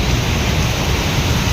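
Heavy rain pouring down beside a bridge, a dense, loud, unbroken roar of water filling the whole short stretch with no pauses and no voices.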